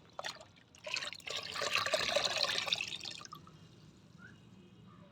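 Water is poured and stirred into a homemade liquid plant fertilizer, a close, steady splashing pour that swells for a few seconds and then fades to light trickling.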